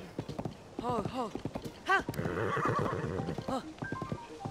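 In The Legend of Zelda: Tears of the Kingdom, a horse whinnies several times with rising, wavering cries while hooves clip-clop, and a person talks briefly over the animal sounds.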